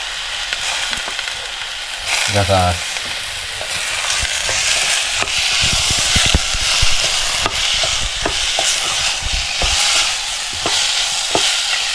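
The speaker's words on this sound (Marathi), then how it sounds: "डायरेक्ट आपण त्याच्यामध्ये फोडणीमध्येच टाकायचे आहे बिया" Steady sizzling and frying hiss fills the clip as raw cashew seeds fry in a tempering, with occasional stirring scrapes and light pops, close and continuous.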